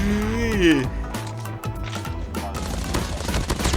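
Rapid bursts of automatic rifle fire from an AK117 in the mobile shooter Call of Duty Mobile, loud and continuous with dense crackling shots over game effects and background voices.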